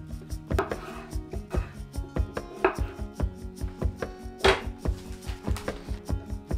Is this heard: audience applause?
no